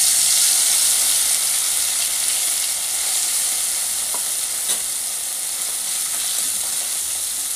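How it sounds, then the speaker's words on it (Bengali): Small kachki fish frying in hot mustard oil give a steady, loud, even sizzle throughout, with a couple of faint clicks partway through and no talking. "এবার আমি একে একে মাছ দিয়ে দিচ্ছি।"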